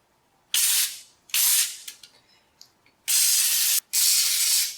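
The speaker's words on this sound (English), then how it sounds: "I have a feeling we're gonna need a lot of liquid wrench." Liquid Wrench penetrating oil sprayed onto rusted bolts of an abandoned Tri-Five Chevy, four loud close hissing bursts of about a second each, separated by short pauses with faint clicks and handling noise between.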